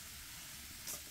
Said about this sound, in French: On va délicatement mélanger tout ça